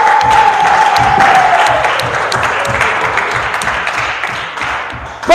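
A church congregation at a Christmas Day service applauds loudly and steadily, a dense wash of clapping with a few cheers that carries on throughout, with a brief tone at the start and a louder burst at the very end.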